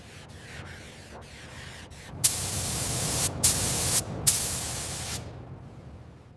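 Silver paint is sprayed onto a classic Porsche 911 from a nearby spray gun, giving loud bursts of hissing that stop briefly several times, after a quieter lead-in of background hiss.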